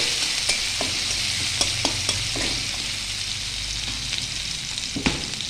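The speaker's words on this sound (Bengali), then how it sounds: "সয়াবিন ভাজা তেলের মধ্যে আমি দিয়ে দিচ্ছি রসুন আর আদা কুচি" Chopped garlic and ginger sizzle in hot oil previously used to fry soybean chunks, a steady loud hiss with clicks of a utensil stirring the pan, no voices.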